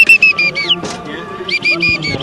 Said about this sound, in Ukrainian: Із українцями розмовляли універсальною мовою свистками.